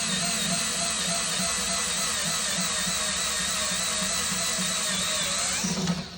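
Dewalt DWHT66719 4-volt cordless screwdriver with internal battery runs freely at a steady high-pitched electric whine, loud and close, holding constant for about six seconds before winding down.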